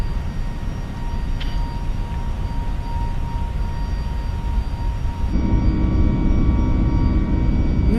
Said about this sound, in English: The engines sound a little better in the climb.